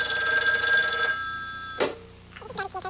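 A telephone rings in a 1985 shower massage TV commercial. A bright electronic warble sounds for about a second, then a second short ring follows, and a voice speaks briefly at the end.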